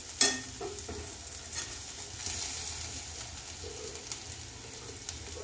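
Onion fries in a little oil with a quiet, steady sizzle and occasional stirring, a brief clink at the start and a faint bird coo somewhere in the background.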